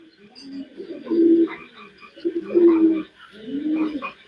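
A large pigeon from racing parents coos in three soft, low, rounded phrases spaced about a second apart, close by, with faint background noise between calls.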